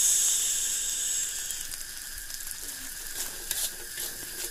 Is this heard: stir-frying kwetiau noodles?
yes